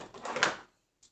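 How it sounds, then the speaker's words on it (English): A drawer slides open from a plastic carrying case for a Topdon Phoenix Plus scan tool, a short scraping glide followed by a pair of faint clicks, close and quiet. "So you push these in like this and now the drawers open"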